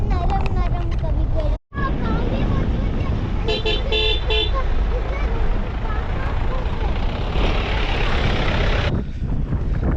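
Steady road and engine noise with a couple of short car horn toots in the middle, while people chatter over the traffic, at the entrance to Kuldhara village near Jaisalmer, Rajasthan.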